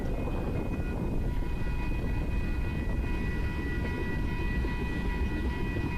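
A freight train passes on the Union Pacific Evanston Subdivision line, a steady heavy rumble with a faint sustained tonal whine, loud and unbroken throughout.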